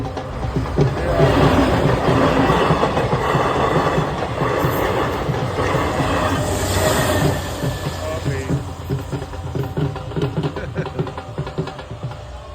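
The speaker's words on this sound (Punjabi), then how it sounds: "ਆ ਗਈ ਟ੍ਰੇਨ ਪਿੱਛੇ" A train rumbles past close by at a closed village level crossing, loud and steady, with clattering wheels and a faint squeal, then gradually recedes.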